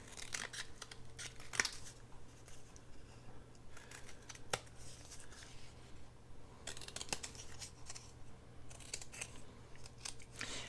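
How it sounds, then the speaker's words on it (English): Scissors cutting through a Triscuits cracker box, a series of close, crisp cardboard snips in irregular bursts with quiet pauses between. "I think I'm just going to cut that box, cut it kind of even"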